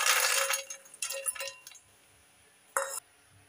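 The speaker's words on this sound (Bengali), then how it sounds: "এবার একটা থালা নিয়েছি, ওই থালার মধ্যে কুরকুরাগুলো ঢেলে নিচ্ছি।" Crispy flattened-rice snacks tumble onto a plate in a few quick rattling, clinking pours, loud at first, then a brief separate burst after a pause.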